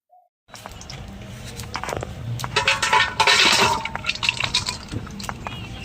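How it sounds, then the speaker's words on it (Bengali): White cooking oil poured into a wok for frying meat in a rustic village kitchen for chicken biryani, a close trickling pour with clinks and spattery crackles building and peaking in the middle before easing slightly. "প্রথমে আমি কড়াই সাদা তেল দিয়ে দিচ্ছি মাংসগুলো ভাজার জন্য"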